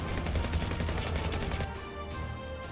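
Rapid gunfire from a shootout in the video game Final Fantasy VII Ever Crisis, a dense, continuous burst of shots with busy game sound beneath, loud and steady before tapering into a quieter tail.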